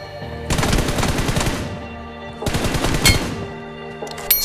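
Two bursts of rapid automatic gunfire from PUBG Mobile, each about a second long with a short pause between them, loud and close with no voices.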